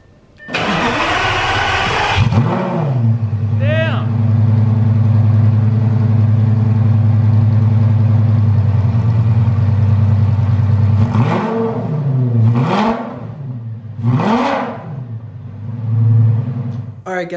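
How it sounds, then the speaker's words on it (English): A Lamborghini supercar engine cranks and fires with a loud burst, then settles into a deep, steady idle, followed by several sharp revs that rise and fall near the end. "I'm gonna show you guys a little startup engine sound, see how it sounds"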